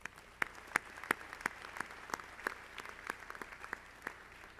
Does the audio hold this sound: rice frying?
no